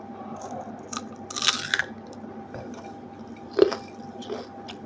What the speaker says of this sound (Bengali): ভর্তার সাথে যদি একটু পেঁয়াজ কামড় দিয়ে খান